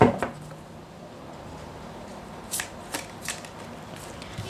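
A deck of tarot cards being shuffled and drawn during a reading, with crisp riffling bursts near the start and a few short, sharp card slaps later, fairly close and alone without talk.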